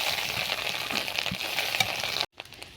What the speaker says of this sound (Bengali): ডিমটা এইভাবে ঝুড়ি করে ভেজে নিতে হবে।